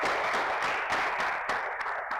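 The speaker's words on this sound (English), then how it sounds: "Please, another round of applause for them." An audience applauds at an engineering event, a dense, steady wash of many hands clapping throughout, moderately loud with no talking over it.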